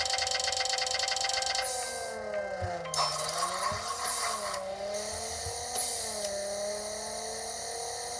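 Volkswagen GLI engine in the mobile racing game Racing Rivals, a steady synthetic drone whose pitch climbs and dips through gear shifts, playing loud and alone with no talk.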